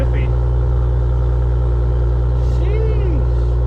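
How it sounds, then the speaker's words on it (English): BMW X7 with a B58 inline-six engine idling, a deep steady loud rumble with a constant low drone throughout, brief faint tonal chirps layered on top. "the engine is actually a B58"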